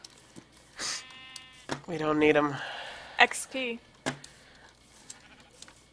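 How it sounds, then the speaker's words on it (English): Minecraft sheep bleating in a video game, a few short wavering bleats mixed among other game sounds and cut through by people talking over them. "Kill the sheep!"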